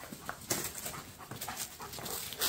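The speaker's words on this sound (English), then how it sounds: "There comes the dogs again." Dogs pant and whimper close by in short, uneven bursts during a cave exploration, with no talking over them.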